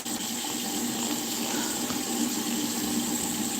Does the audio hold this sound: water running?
yes